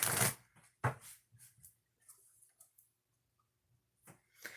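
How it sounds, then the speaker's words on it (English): Oracle cards being shuffled by hand, quiet riffling bursts at the start and end with soft card handling and light clicks in between, close and otherwise silent. "I got to shuffle the deck and then we'll get started"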